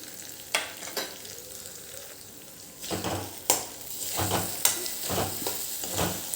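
A Punjabi corn curry, dam ki makai made without onion or garlic and finished with fresh cream, is stirred in a pan with soft sizzling and several scraping spoon strokes that grow busier toward the end.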